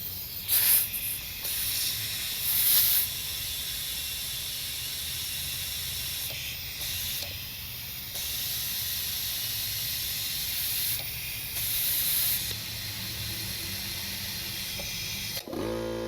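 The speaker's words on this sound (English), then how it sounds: "What's leaking is the air hose right now." Steady hiss of compressed air escaping from a leaking air hose while a bent wheel's tire is being inflated, continuous and close with a few brief louder bursts.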